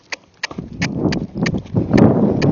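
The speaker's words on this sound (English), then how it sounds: "I'm going to try to walk in and then ask her to canter." Tennessee Walking Horse cantering in an arena, hooves giving a steady clip-clop rhythm of distinct near footfalls over a rumbling background of movement.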